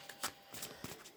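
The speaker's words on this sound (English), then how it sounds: "so 3 more shuffles and then I'll take 10 cards" A deck of tarot cards is shuffled close by, giving quiet riffling bursts and soft flicks in an uneven rhythm, with no talking.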